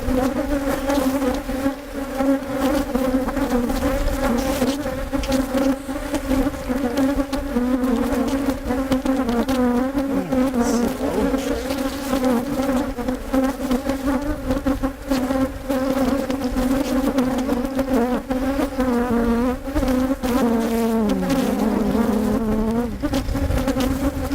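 A large, healthy honeybee colony buzzing aggressively while comb is removed, a dense, steady loud hum with shifting pitch throughout, no talking.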